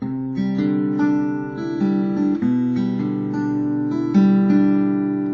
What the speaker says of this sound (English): our first 2 chords are going to sound like this